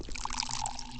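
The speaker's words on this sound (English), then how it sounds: "What happens if I drink water?" Water being drunk in Pathologic HD, a short, close pouring and trickling splash that lasts about a second, with no talk.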